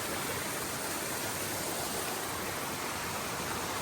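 Steady, dense roar of falling water, broadband and constant throughout, like a waterfall heard close by; Mountaineer Falls on the Appalachian Trail.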